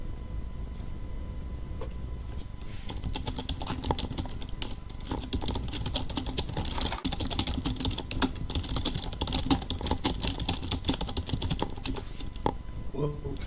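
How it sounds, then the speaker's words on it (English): Furious, rapid typing on a computer keyboard, a dense continuous clatter of keystrokes close to the microphone with faint background noise. "Shit, some furious typing"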